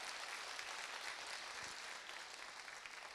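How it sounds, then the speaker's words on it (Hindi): An audience applauds at a gathering honoring a speaker with sustained, dense clapping that continues evenly and sounds somewhat distant. "अपने गड़गड़ाती हुई इस करतल ध्वनि से जो मेरा सम्मान बढ़ाया"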